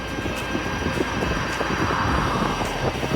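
A steady Shimano Steps electric bike motor whine under throttle and rushing wind noise run continuously while riding, with no talking.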